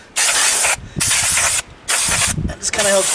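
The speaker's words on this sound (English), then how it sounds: "I just want to spray this down with some brake cleaner" An aerosol can of brake cleaner sprays onto a new brake caliper part for a Dodge Ram in three long, loud hissing bursts separated by brief pauses, ending with a short clatter.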